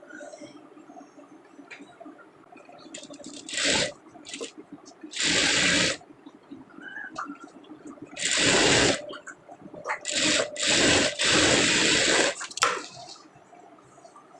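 A sewing machine stitches a lined blouse in several loud bursts of whirring, separated by quieter pauses with faint handling noise.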